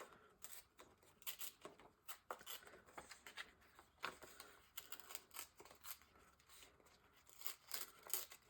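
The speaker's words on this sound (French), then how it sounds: "Je vais les déchirer plutôt que de les découper." Paper roses are torn by hand in quiet, close-up bursts of ripping and crinkling, short tears coming in an irregular rhythm throughout, faint and without talk.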